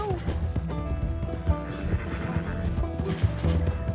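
Galloping horse in Red Dead Redemption 2, steady clip-clop hoofbeats at close range mixed with game music and ambience, with occasional louder thumps.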